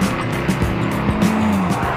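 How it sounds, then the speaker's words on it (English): A Skoda VRS engine roars loud and close, its tone rising and falling as the car accelerates, with tire squeal and road noise. "But none sound quite as good as the Skoda VRS."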